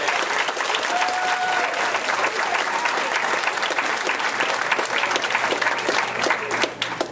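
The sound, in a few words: audience applause at graduation ceremony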